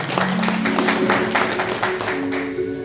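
Audience at a National Voters' Day ceremony breaking into applause, a steady patter of many hands clapping close by for a few seconds, with a faint voice underneath.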